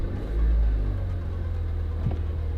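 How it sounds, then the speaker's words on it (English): Engine of a Mini car running just after its first start, a steady close low rumble with a faint mechanical whir and no voices. "Turning on the car for the first time."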